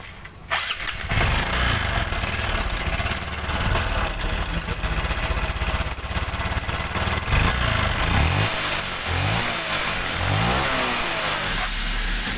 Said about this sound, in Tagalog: So ganun kaingay yung motor ni sir sa pag pinander mo.